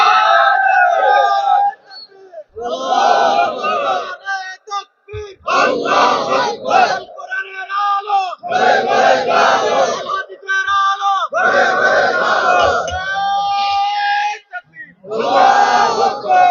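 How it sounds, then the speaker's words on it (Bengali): A large crowd at an Islamic mahfil in Lalmai, Comilla roars a slogan in unison with raised hands, repeated loud chanted bursts alternating with a lead voice calling out between them. "কারা কারা আছি দুই হাত উঁচু করে একটা স্লোগান দিয়ে দেখায়"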